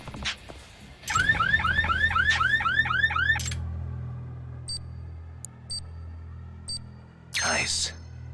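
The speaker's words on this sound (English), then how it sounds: "unlocking a car door like this to turn off the alarm seems like a bad idea" A car alarm goes off in the video game Judgment, a loud rapid warbling siren that cycles for about two seconds and then cuts off, followed by faint scattered beeps and a brief rustle.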